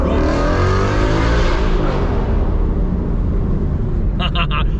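A 2017 Mustang GT running a Corsa Xtreme catback exhaust blasts past at full throttle, its loud deep roar falling away as it passes, and a few sharp clicks follow near the end.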